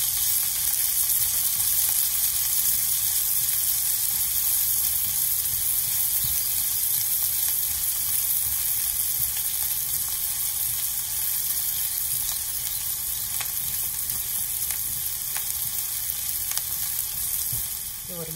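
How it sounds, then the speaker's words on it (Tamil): Finely chopped onion hits hot oil with cumin seeds and fries in a dense, loud, continuous sizzle that holds steady without pause and fades slightly at the very end, with no talking. "ஜீரம் பொரிஞ்சதும் பொடியாக நறுக்கி வச்சு ஒரு வெங்காயம் பெருசாக அதை போட்டுக்கலாம்"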